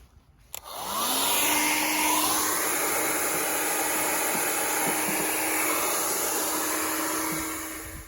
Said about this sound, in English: I'm just going to use the hairdryer to make sure it's nice and dry inside